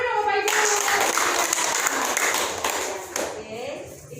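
Parents at a school meeting for the announcement of top students clap together in a dense burst of applause lasting about three seconds, then it thins out and fades.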